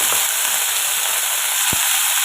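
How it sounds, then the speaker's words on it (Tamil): Tomato, a dried red chili, garlic and ginger sautéing in a pan give a steady, dense hissing sizzle, with one faint low knock near the end. "இந்த டயத்தில் தக்காளி ஒரு வத்தல் பூண்டு இஞ்சி இதெல்லாம் சேர்த்து நம்ம வதக்கி வச்சுக்கலாம்"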